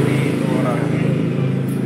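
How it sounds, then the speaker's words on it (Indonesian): A motorcycle passes on an Indonesian street, a loud continuous engine drone up close that swamps the scene for the whole moment, with voices audible underneath. "Ini ada motor lewat."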